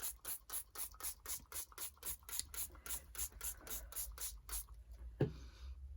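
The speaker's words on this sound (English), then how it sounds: "spray the background" Water from a hand spray bottle mists onto the background of a handmade Christmas journal, a run of quick, evenly spaced hissing squirts close by that stops abruptly near the end.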